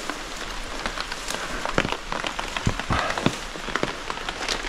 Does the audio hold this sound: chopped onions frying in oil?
no